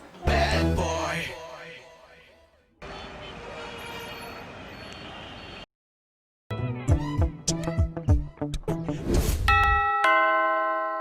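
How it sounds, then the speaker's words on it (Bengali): A home doorbell rings in a Bangla comedy drama, its electronic chime sounding in several bursts broken by short silences, with bright sustained tones at the end. "তুই কলিং বেল দিছিলি"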